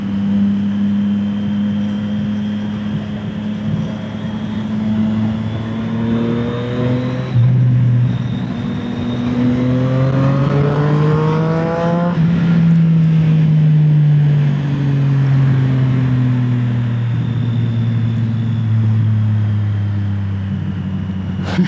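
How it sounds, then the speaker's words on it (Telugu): A Triumph Street Triple motorcycle fitted with an SC Project exhaust, loud and close, its engine note rising and falling through several throttle blips and revs over a steady idle. "సో ఎగ్జాస్ట్ అయితే క్లియర్గానే వినిపిస్తుంది."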